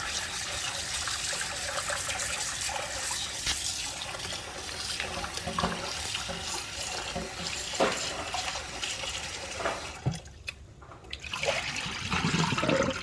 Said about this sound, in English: I'm gonna run some fresh water over it